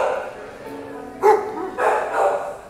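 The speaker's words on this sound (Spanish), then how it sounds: "Perdón por el audio, estoy rodeado de perritos." Pitbull dogs bark in short, scattered yips and woofs, a few at moderate distance, over a quiet background with a voice murmuring nearby.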